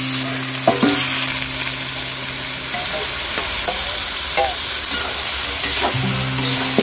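Boiled chicken pieces fry in a pan for Bengali chicken kosha, a loud continuous sizzle broken by repeated scraping stirs and clinks of a utensil against the pan.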